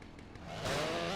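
A chainsaw revs in the video game GTA San Andreas. A low motor idles briefly, then surges into a louder buzzing whine that holds steady to the end.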